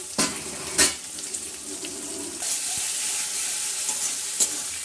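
Chicken pieces marinated in soy sauce and vinegar frying with chopped onion in a pan, a steady close sizzle with a couple of sharp stirring scrapes near the start.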